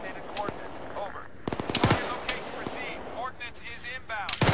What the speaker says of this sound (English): got a bunch of artillery falling on the northern side of there